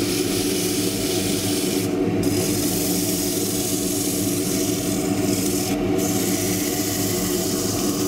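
Continuous close rasping and rubbing of sandpaper against a small green-wood bowl spinning on a lathe, with a steady motor hum underneath and a couple of brief breaks in the scratchy sound.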